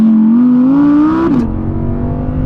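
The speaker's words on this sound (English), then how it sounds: "Oh, the engine, it's so sweet." An Audi R8 rear-wheel-drive sports car's engine revs up toward 8,500 RPM with a rising, sweet-sounding wail, then drops sharply at a quick upshift and settles into a steady, lower drone, loud and close.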